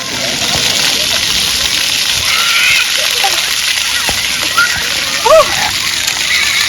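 Water sprays and splashes at an outdoor splash pad in a steady, loud rush, with a couple of sharper splashes near the end and a child's and an adult's voices calling out over it.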